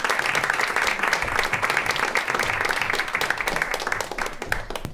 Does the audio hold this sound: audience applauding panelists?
yes